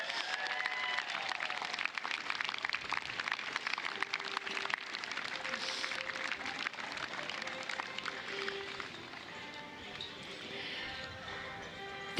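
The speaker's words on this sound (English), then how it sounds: "a homegrown round of applause for WA Gold, WA White, and WA Flames" A crowd applauds the WA Gold, WA White and WA Flames softball teams at the opening ceremony of a women's national championship. Dense, uneven clapping continues throughout, mixed with scattered cheers and background tones, and grows slightly softer toward the end.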